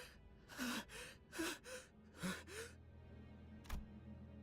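A character in the game Limbus Company gasps for air, several sharp, ragged inhaled breaths in quick succession, fairly close and quiet, followed by a final short snatched breath after a pause.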